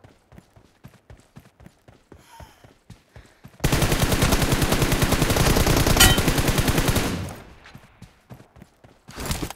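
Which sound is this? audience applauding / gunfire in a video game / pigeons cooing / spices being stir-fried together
gunfire in a video game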